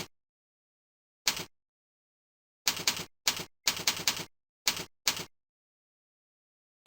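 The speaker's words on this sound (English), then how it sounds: "Now let's type public property model" Code being typed on a computer keyboard in short bursts: sharp, clear key clacks in small clusters separated by silent pauses, fairly close and alone.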